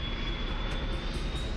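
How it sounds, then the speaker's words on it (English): Airliner descending low on a landing approach in bad weather, a steady broadband engine roar sustained throughout with a faint high whine, no voices. "The plane comes in low."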